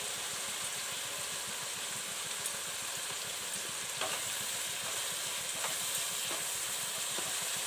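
Ground spices, coriander, cumin and turmeric, fry in oil for chicken curry, giving a steady, soft sizzle with occasional stirring scrapes and light taps, no voices present.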